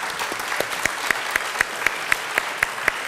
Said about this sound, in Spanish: este aplauso que cierra su exposición abre, por supuesto, el turno de preguntas